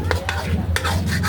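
Flour gravy is stirred in a pan, a spoon scraping the bottom in quick repeated strokes, around five distinct scrapes over a low background rumble with a faint sizzle underneath.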